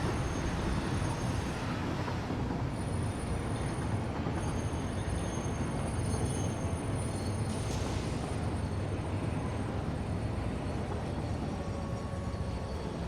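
A train rolls steadily in the factory-building game Satisfactory, a dense continuous rumble of wheels on rails with faint high squeals, constant and close throughout.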